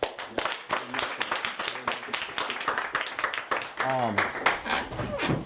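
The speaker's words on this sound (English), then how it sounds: "One more round of applause" A round of applause at a community gathering, with many hands clapping in a steady, crisp patter while voices talk and cheer over the clapping.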